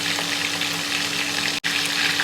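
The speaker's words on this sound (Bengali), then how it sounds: "একদিকটা ভালোভাবে ভাজা হয়ে গেলে মাছটা উল্টে দেবো" Katla fish pieces frying in hot oil in a pan, giving a dense, even, close-up sizzle that holds steady, broken only by one very brief dropout.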